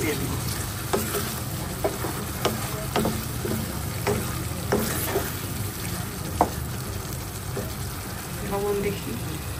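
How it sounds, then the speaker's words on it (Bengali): Hilsa fish fries in a pan and is stirred, a steady sizzle broken by repeated scraping and clacking of a spatula, with faint talk in the background. "মাছগুলো দিয়ে আরেকটু কষিয়ে নেব"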